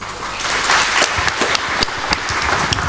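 A crowd claps steadily at a Tanzanian election officials' training session in Rorya after an official formally opens the workshop, dense sustained applause filling the room with no voices over it.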